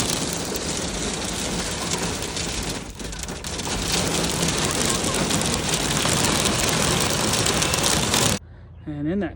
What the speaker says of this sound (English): on the way home we got hit with a really bad rainstorm